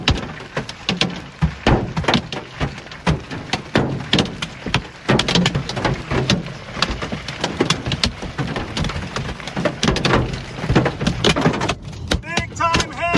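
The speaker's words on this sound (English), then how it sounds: "Big time hail here in Kansas." Hail pounds down during a storm with strong winds in western Kansas, a dense, irregular clatter of hard impacts striking surfaces loudly and close throughout.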